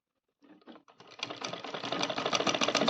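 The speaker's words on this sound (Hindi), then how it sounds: "इस तरीके से हमें सीधा सिलाई कर लेनी है।" A sewing machine stitching a Rajputi kanchali blouse starts with a few hesitant stitches, then settles into a steady, fast rhythmic clatter that builds in loudness, alone without voices.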